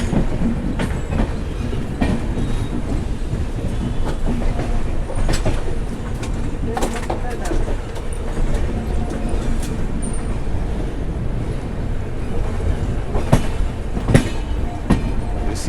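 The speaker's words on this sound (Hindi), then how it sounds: "ट्रैक साउंड कितना अच्छा आ रहा है।" Wheels of the Dibrugarh Secunderabad Express clack over rail joints near Kharagpur in West Bengal, a loud continuous rumble with sharp irregular knocks and occasional metallic squeals, heard from inside a moving coach with no talking.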